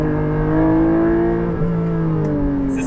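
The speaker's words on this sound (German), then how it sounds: "Und das Runterschalten mit dem Autoblip ist so witzig." Porsche 718 Cayman GTS 4.0 with a manual gearbox on a country road, its engine droning loudly with a steady harmonic note that briefly dips and blips during a downshift.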